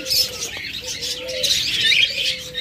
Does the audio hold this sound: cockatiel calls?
yes